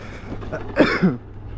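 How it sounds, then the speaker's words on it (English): A single short cough or throat-clear, close and fairly soft, over a quiet low background hum. "Excuse my cough."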